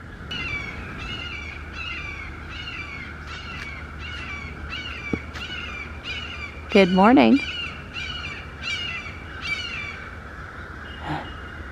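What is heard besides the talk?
crows cawing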